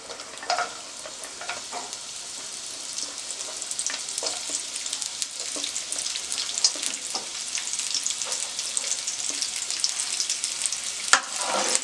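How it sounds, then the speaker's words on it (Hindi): Carrots frying in hot oil in a home kitchen, a continuous bright sizzle with occasional stirring clatter, close and steady throughout. "सब्जियों में सबसे पहले आप गाजर डाल लें, क्योंकि गाजर थोड़ा टाइम लेती है फ्राई होने में"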